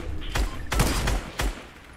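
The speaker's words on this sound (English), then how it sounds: "Dustin finally got a shot off on him." Gunfire in the video game Fortnite, Chapter 2 Fortnitemare mode: three loud close bursts of shots, with a brief one near the start, a longer volley in the middle and a final short burst.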